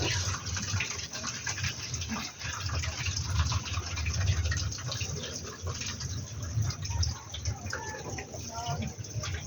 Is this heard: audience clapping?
no